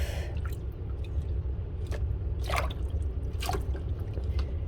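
Water rinsing over the leaves of a Hoya carnosa plant during a warm bath pest treatment, heard as scattered drips and splashes over a steady low background rumble, fairly quiet and close.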